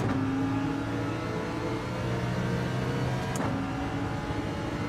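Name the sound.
racing car engines, Lamborghini and NSX, Gran Turismo 7 video game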